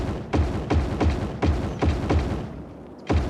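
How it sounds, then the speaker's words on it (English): A run of dull, heavy thuds from road upgrading in the video game Cities: Skylines lands at a steady rhythm, about one every half second, with a brief pause before a final thump. "back to thud of upgrading roads"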